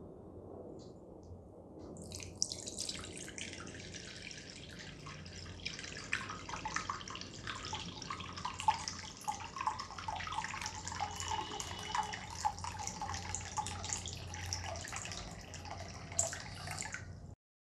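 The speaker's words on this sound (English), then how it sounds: "let's just perform a splash test for the 1 minute" Water splashes steadily over a broken Nokia 5.1 Plus smartphone during a one-minute splash test, a continuous close, fairly loud patter and spatter like a running tap. No voices are heard over it.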